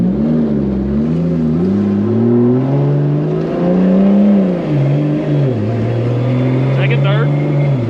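A 2JZ-powered BMW E30 with a dual-clutch gearbox, running about 1 psi of boost, accelerates hard through its gears. Its engine note climbs and drops with each shift, and a faint whistle rises near the end. Loud and close, heard from inside the car.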